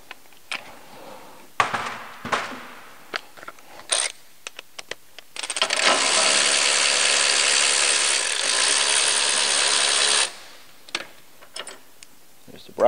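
A ratchet clicks in short scattered bursts, then spins in one long steady buzzing run while loosening the power steering reservoir bolt on a 3.6L Jeep during a turbo kit installation, close and loud.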